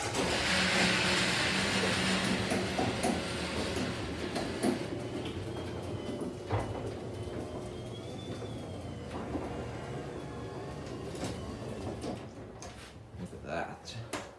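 An old garage door opening by remote on a cold, snowy day, a loud continuous rumbling and rattling roll with clanks and squeaks, fading toward the end.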